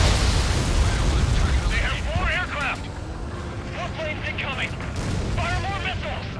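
Missile blasts in Ace Combat 7, flown in a MiG-21bis, come as a loud continuous roar with heavy low rumble, while voices chatter over the top in short bursts.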